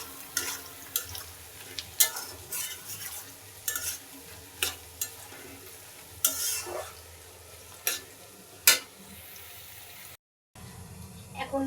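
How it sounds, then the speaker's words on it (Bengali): Onions fry in a pan as mutton curry is prepared, with a low sizzle under repeated scraping stirs of a spatula. The sound breaks off briefly near the end. "এদিকে পেঁয়াজটা ভাজি করে নিচ্ছি"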